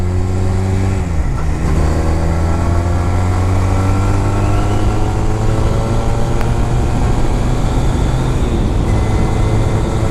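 A 2006 Honda Rebel 250 motorcycle cruising on a road in a steady loud drone, the engine pitch dipping at a gear change and then climbing slowly as it pulls, with constant wind rush over it.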